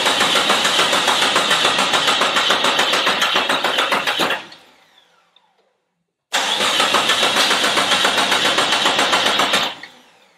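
A Jeep XJ engine cranks after an engine swap in two long, loud, rapid chugging bursts that stop abruptly, with a silent gap between them and no sign of it catching.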